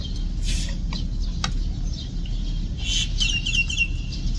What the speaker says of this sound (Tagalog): Nakanta ang mga ibon, no?